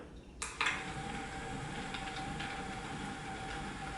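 A steady low rumbling and grinding hum of a rock tumbler running on the lowest of three speeds, preceded by a brief clatter as it starts, fairly quiet throughout.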